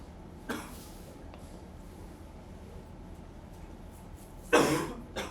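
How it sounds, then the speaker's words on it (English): Two coughs stand out from a quiet, low hum: a short one near the start and a louder, harsher one toward the end. "Sorry, I got a cough."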